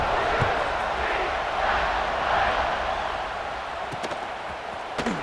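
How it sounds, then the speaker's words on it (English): Stadium crowd in the College Football 26 video game roaring after a touchdown, a constant loud wash of crowd noise with a few sharp knocks, under an announcer's voice. "this crowd is buzzing after that last score"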